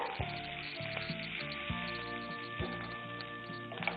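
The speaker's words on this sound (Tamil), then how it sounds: "இது கொஞ்சம் நல்லா வதங்கணும். அந்த பச்சை வாசனை போகணும் இஞ்சி விழுதுல." Green chilli and ginger paste sautéing in a pan, a soft low sizzle with a few light scraping strokes at close range.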